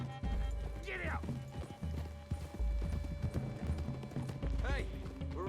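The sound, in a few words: horse hooves trotting in video game Red Dead Redemption 2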